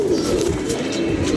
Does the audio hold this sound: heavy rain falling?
no